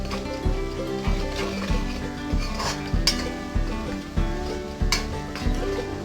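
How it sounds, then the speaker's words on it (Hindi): Spices stirred and fried in a pan for dubuk vadi curry, a steady sizzle under repeated scraping strokes of a spoon against the pan, with occasional clinks of metal, close and continuous. "मसाले को हम इस तरह से थोड़ी देर भूनेंगे।"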